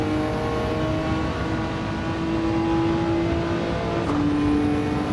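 A Nissan GT-R GT500 '99 race car in the video game Gran Turismo 7, its engine whining steadily upward as it accelerates out of a turn at Circuit de La Sarthe, with a quick shift near the end.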